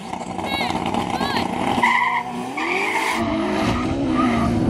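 Ferrari SF90 launches hard from a standstill with tires skidding and squealing, its engine rising in pitch over a few seconds, heard close with people talking over it.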